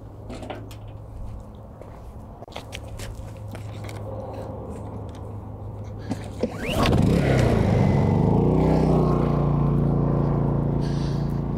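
A Honda suitcase generator runs near full load at about 1500 watts, starting up partway through with a steady, fairly close engine hum that settles into an even drone after some earlier handling clicks and a different lower hum.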